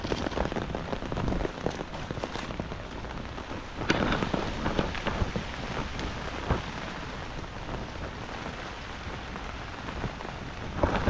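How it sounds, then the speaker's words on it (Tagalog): Heavy rain from the first hit of an approaching typhoon pours down steadily in rural countryside, a dense, loud, unbroken roar of rain on surfaces with low rumbles of thunder beneath. "Unang tama ng bagyo."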